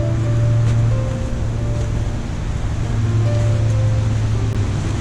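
Water rushes steadily at a Pocono waterfall fed by a small stream running down rocks, a loud, even roar with no breaks and no voices.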